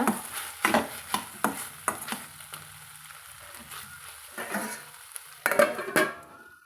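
Eggplant frying in ghee or oil is stirred in a pan, with repeated sharp scrapes and clinks of the utensil against the metal over a soft sizzle, coming in short, irregular bursts with pauses between them.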